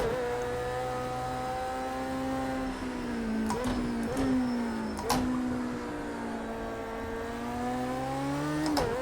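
Race car engine in Project Cars 2, a steady droning whine that dips and climbs in pitch as the car slides and regains grip, with brief thuds and clicks over the continuous hum.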